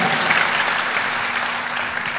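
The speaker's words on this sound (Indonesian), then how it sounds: "Tepuk tangannya yang paling meriah buat Raja di atas segala raja." Enthusiastic applause from a church congregation, a thick, even clatter of many hands clapping, loud and sustained across the whole moment.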